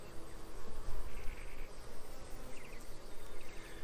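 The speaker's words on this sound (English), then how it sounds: "So I got a fair amount of bees, which is always good." Honey bees swarm around an opened hive during a mid-July inspection, a steady, close, shimmering buzz with individual bees droning louder as they pass near.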